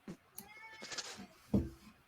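A cat gives a couple of short meows, the second louder and closer, over faint room noise with no one talking.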